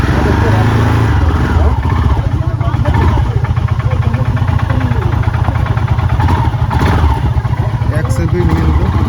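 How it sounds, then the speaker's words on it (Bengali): A motorcycle on a cold mountain morning in North Sikkim, around 8 degrees, is self-started and settles into a steady, pulsing idle that runs close and loud throughout, with someone talking over it. "বাইকটা একটু সেলফ দিয়েই দেখি এক সেলফে নেয় কি নেয় না"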